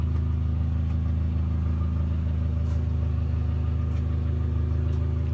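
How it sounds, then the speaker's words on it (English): Toyota Corolla TSport with a VVTL-i engine and TRD parts running steadily, a loud constant mechanical drone close by with no clear rise in revs, and no talking. "let's rev it a little bit."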